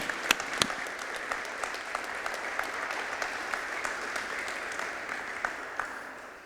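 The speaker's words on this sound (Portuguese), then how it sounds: "Uma salva de palmas para Jesus." A church congregation claps together in a long, even round of applause, moderately loud with a few sharper claps standing out, fading slightly toward the end.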